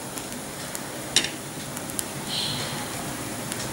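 Toast frying in ghee on a pan for a spinach corn cheese toast, a soft steady sizzle with a few small crackles and a brief louder pop near the start.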